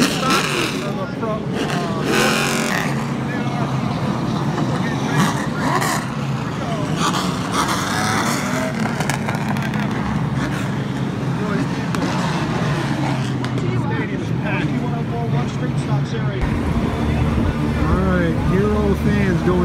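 Race cars racing at a stadium produce a continuous loud roar of engines, with revving passes and crowd noise layered together, and voices talking over the din throughout.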